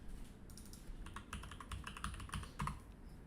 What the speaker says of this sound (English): Let me write my MetaMask password.